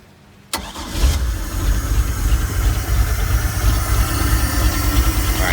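A wake boat engine cranks briefly and catches, then settles into a steady, loud idle that runs on with a constant rumble and no voices.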